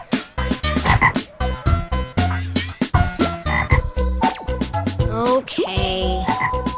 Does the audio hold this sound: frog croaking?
yes